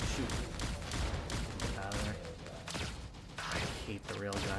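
Rapid electronic shooting from the arcade video game Berzerk Recharged, with bursts of zaps and blasts in quick succession and game music underneath.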